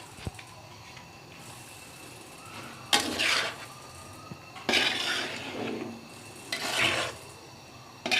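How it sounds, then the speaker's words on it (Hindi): Spring pasta is mixed in a pan with a few distinct scraping stirs in three separate bursts over a faint background hiss, close by and without speech. "इसमें ये स्प्रिंग पास्ता शामिल करके इसको भी हम मिक्स"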